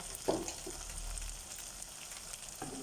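Garlic and ginger sizzle in hot oil in a pan for a kidney bean and potato curry, a steady close crackle that swells as the aromatics go in, with no talking.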